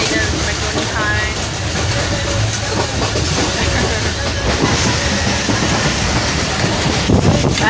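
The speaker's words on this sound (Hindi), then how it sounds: "हमारी ट्रेन काफ़ी तेज़ चल रही है, ज़ोरों शोरों से भी इसने स्पीड पकड़ी है बहुत तेज़।" A passenger train heading to Punjab at high speed gives a loud, steady roar of rumble, rattle and rushing wind, heard from inside a carriage throughout.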